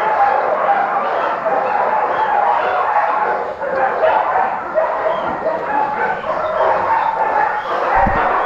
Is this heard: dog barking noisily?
yes